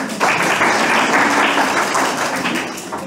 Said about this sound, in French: Vous méritez un applaudissement.